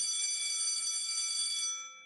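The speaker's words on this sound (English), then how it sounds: "I'm just playing with me bell." A small toy bell is rung continuously by a child, a bright, piercing metallic ringing that sustains steadily and loudly for nearly two seconds before fading away.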